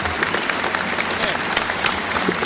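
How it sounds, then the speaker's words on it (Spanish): Delegates at a city and local governments assembly applauding to elect a president and co-presidents, a continuous burst of dense clapping from a large crowd with faint voices mixed in. "Y los elegimos por aplauso unánime"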